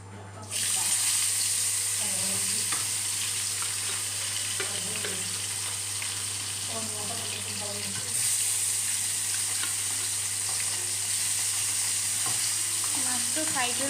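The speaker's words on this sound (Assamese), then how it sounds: "মাছটো ফ্ৰাই কৰি লৈছোঁ এতিয়া।" Fish sizzles steadily in a frying pan on a home stove, a loud continuous hiss starting just after the opening second, with occasional scrapes and clatters of a utensil; no one talks.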